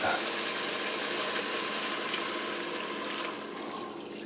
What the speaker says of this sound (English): 3 cups of chicken broth. Just slowly add that.